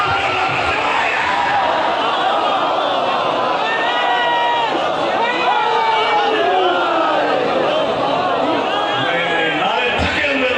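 Crowd at a Shia majlis procession on 20 Safar chanting religious slogans together, a dense continuous wall of voices with rising and falling shouted tones throughout, loud and near.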